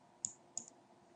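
Two crisp mouse clicks, close and quiet, about a third of a second apart, on the Save Private Key button of a Windows Git tool.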